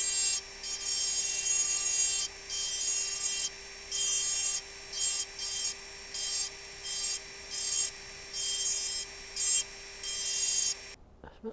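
A diamond burr engraves a crystal glass tankard with a coat of arms, giving a close, high whining grind in short repeated bursts with brief pauses, steady hum underneath and no voices.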